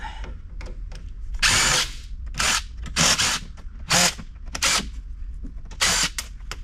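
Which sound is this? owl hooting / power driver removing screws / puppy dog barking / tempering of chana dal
power driver removing screws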